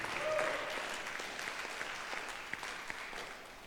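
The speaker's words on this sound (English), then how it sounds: "You can clap for him again, that's fine." An audience claps for a speaker at a panel discussion, a steady, moderately loud round of applause that gradually thins out, with a voice briefly audible near the start.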